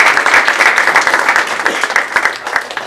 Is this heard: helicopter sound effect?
no